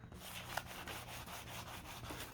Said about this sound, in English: you would use 1000 sandpaper